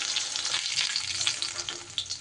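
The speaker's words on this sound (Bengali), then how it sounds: "এইবার বাকি মাছগুলোকেও আমি একই রকমভাবে ভেজে নেব।" Sarputi fish fry in hot oil in a pan, producing a bright, crackling sizzle that stays steady and close, with occasional louder pops and light stirring, and no speech.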